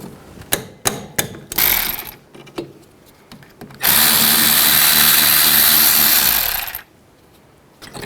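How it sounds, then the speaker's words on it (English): A ratchet with a 12mm socket removes the brake caliper bolts on a 2007-11 Honda CR-V, with a few sharp clicks followed by about three seconds of steady whirring, close up and alone. "Now I'm going to take this caliper off, take these two caliper bolts out,"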